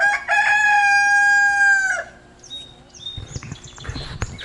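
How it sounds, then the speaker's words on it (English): A rooster on a farm with a garden lets out one long, loud crow lasting about two seconds, followed by quieter clucks and farmyard rustling. "roosters."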